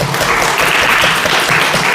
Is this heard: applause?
yes